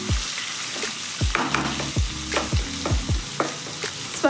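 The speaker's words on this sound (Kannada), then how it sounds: "ಸ್ವಲ್ಪ ಫ್ರೈ ಮಾಡಿಕೊಂಡ್ರೆ ಸಾಕು" Onion frying in a pan for an ivy gourd stir-fry, with a steady sizzle under regular scraping strokes of a spatula stirring it, about one every half second; close and clear, no talk.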